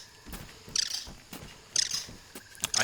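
Aphid creature chirping in the backyard survival game Grounded, a few short high-pitched chirp bursts repeating about once a second, moderately close with faint background ambience and no talk.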